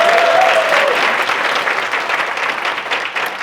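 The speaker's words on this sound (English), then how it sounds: "Can y'all clap it up for that?" Audience at a women-in-business event clapping together, a dense, loud burst of applause that holds steady and tapers slightly, with faint crowd murmur beneath.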